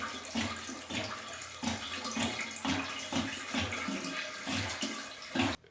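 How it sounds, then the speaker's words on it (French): Water splashing and pouring in repeated surges as a large kefir fermentation container is topped up to 35 litres, rhythmic gushes about every second, fairly close and moderately quiet, no voices. "Nous complétons le niveau d'eau pour atteindre les 35 litres désirés."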